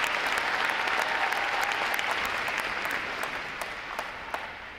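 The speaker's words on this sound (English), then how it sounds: "A round of applause for their outstanding performances as well" A large crowd at a U.S. Navy Recruit Training Command graduation ceremony applauds in a loud, dense burst that slowly thins toward the end, with a few sharper individual claps standing out near the close.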